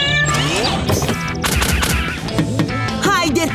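Cartoon kittens meow in quick, high-pitched bursts over lively animated-show music and sound effects, with a few crashing hits mixed in; the cries are loud and close, rising and falling in pitch.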